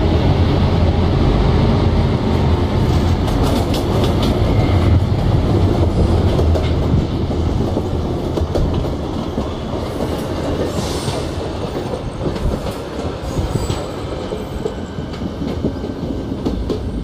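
A train pulls in within the Train Simulator Classic game, a steady loud rumble of rolling wheels with faint clickety-clack and brief wheel squeal, easing slightly in volume as it arrives, with no talking.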